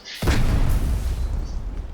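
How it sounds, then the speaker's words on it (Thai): Explosion in the Garena Delta Force video game: a sudden deep boom that rolls into a long, heavy rumble, loud and sustained for the rest of the moment, with no talking. "เฮ้ยนี่ระเบิด"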